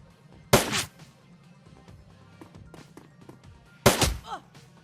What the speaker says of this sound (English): These shotguns are deadly.